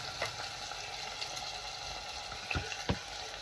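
Red onions frying in hot oil for a Sri Lankan long yard bean dish, a steady low sizzle punctuated by a few sharp crackles and stirring clicks.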